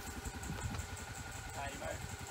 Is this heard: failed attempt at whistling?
no